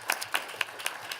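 Brief, soft applause from an audience at a Wisconsin Capitol briefing on housing and health, a few scattered claps sounding distant and thin.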